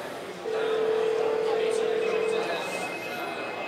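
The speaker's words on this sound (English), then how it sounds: "if I were to press this button right here, the call button, it'll activate voice over IP software, take a picture also, and call the homeowner's cell phone" A door intercom's call button sets off a VoIP call to the homeowner's cell phone, heard as a steady, clear dialing tone held for about two seconds and then a fainter higher tone, with no talking.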